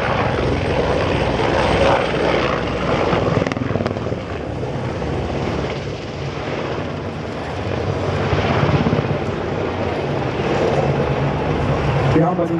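Military helicopter flying display at a Bundeswehr air show at Fassberg air base, a loud sustained rotor and turbine roar that dips briefly mid-clip then swells again, with someone talking over it.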